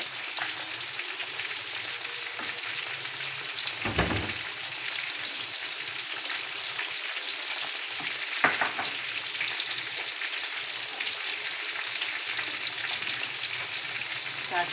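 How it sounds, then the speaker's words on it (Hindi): Spices frying on a hot tawa for a fish fry make a steady, close crackling sizzle that runs throughout, with a couple of brief stirring knocks. "इनको हल्का सा हमें बस फ्राई करना है, कलर आ जाएंगे"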